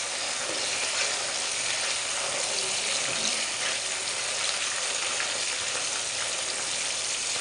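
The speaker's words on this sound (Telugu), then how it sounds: "కాకరకాయ కారంలోకి బాగా ఫ్రై చేసుకోండి" Bitter gourd and curry leaves fry in a pan for a spicy bitter gourd dish, giving a steady, dense sizzle that stays close and even throughout with no talk.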